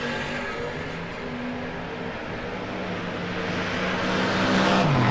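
Two Dodge Dart drag race cars, one in maroon, at a no-box 660 shootout, their engines roaring steadily at full throttle and swelling louder toward the end, with no voices over the noise.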